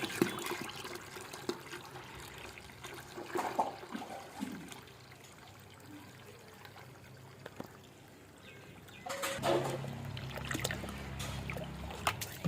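Soapy wash water from soaked clothes drains and splashes into a bucket, faint trickling early and a louder gush of pouring water near the end.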